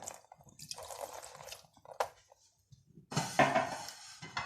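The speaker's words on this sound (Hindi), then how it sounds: "ऊपर थोड़ा सा पानी डाला" Water poured over a covered pot of beef biryani, a few close splashing, dripping bursts with short pauses, ending in a louder sustained pour.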